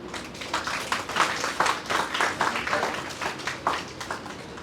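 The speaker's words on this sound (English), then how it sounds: "A huge round of applause, everybody." Audience applause after a call for a round of applause at a City University Ludhiana career event, a steady wash of many hands clapping that swells and fades, fairly loud throughout with no talk over it.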